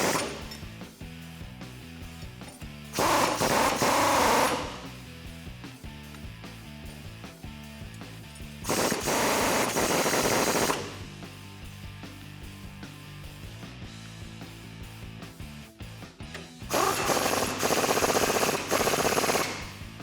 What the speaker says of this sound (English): now you can tighten down these nuts with a 22mm socket